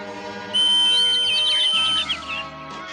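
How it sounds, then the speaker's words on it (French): A single sustained high-pitched magic whistle from a Smurfs cartoon blows for about a second and a half, loud and steady, over a faint musical background. "Je n'ai peut-être pas sifflé assez longtemps"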